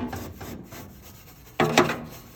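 Rags rub and wipe over the parts of a Lopi AGP wood stove during basic maintenance, producing soft scuffing strokes, then two louder, sharper scrapes near the end, close and alone.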